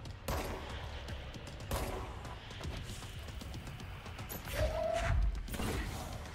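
Gunfire in the video game Control, several sharp shots and short bursts spread across the moment, fairly close and punchy over low rumbling game ambience.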